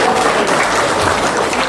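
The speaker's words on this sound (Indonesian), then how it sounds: "Tepuk tangan buat Bu Muhib." An audience of housewives claps for a woman called up front at a company goal-setting seminar, producing dense, even applause at close range that holds steady throughout the short burst.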